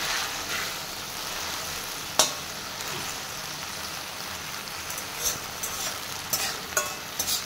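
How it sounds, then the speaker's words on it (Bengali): Jute leaves sizzle in a hot frying pan with a steady, hissy crackle, and a few sharp taps and clinks of a utensil stand out against the frying. "এরপর এটাকে ভাজা ভাজা করে নেব।"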